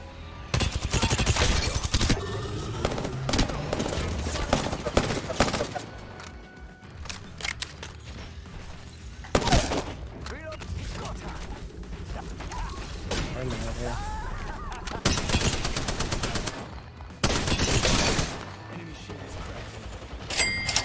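Bursts of rapid automatic gunfire in a first-person shooter video game, loud and close, broken by gaps filled with mechanical clicks and gear rattles, with a player's voice at times.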